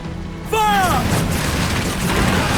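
Ship cannons in Assassin's Creed Black Flag boom in a heavy, rumbling burst, loud and close, following a shouted voice.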